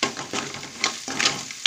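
Ginger-garlic paste fries in oil in a pan for a fish curry, giving a soft, steady sizzle with a few louder bursts and scraping stirs, close and without speech.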